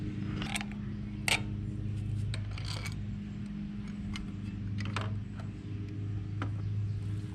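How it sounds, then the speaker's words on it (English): A small wrench works hex-head bolts loose from the intake of a Craftsman lawn mower, giving scattered close metallic ratchet clicks, creaks and light taps over a low steady hum, with no speech. "get a little wrench, and then that'll unthread these bolts from that intake right there"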